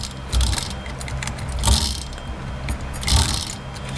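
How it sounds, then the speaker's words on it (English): A GoPed rear wheel fitted with a brand new chain and sprockets is spun by hand, and it ticks and whirs nearby in three rising bursts with a steady mechanical rattle between them. "Spin that around, check our chain tension again."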